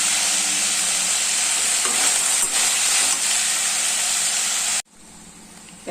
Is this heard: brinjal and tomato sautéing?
yes